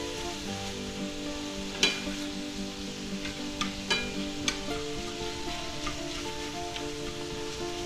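Sausage sizzles steadily in a frying pan while being broken up and crumbled, with a constant hiss and a few sharp scrapes and clicks from the utensil against the pan, close and with no talking.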